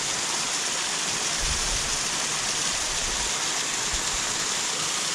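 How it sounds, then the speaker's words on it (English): A small waterfall on a Lake District fell walk gives a steady, even rush of falling water, a broad hiss that is moderately loud and continuous throughout with no voices over it. "We were promised waterfalls. Yeah, this is what we've got so far."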